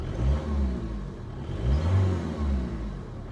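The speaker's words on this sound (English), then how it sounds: "I mean, give it a rev." A Peugeot 206 with a 2.0 HDi diesel engine revs up twice in quick succession, the low engine note rising and falling each time, close and steady, with no voices over it.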